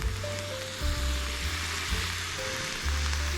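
Treacle-cured bacon fries slowly in a pan with a steady soft sizzle, a gentle crackling hiss that pulses slightly throughout with no voices.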